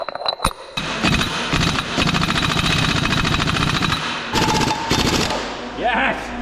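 A compact impact gun hammers at the hub nuts on a truck axle with a loud, continuous rattling burst that runs almost unbroken, with a brief pause near the end and faint voices mixed in.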